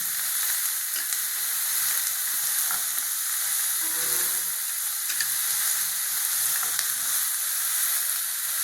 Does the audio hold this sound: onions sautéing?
yes